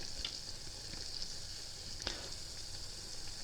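Tunisian yoyo dough frying in hot oil, a steady close hiss and bubbling with a couple of sharp pops or stirring clicks and no talking.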